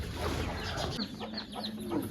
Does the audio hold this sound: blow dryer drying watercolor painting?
no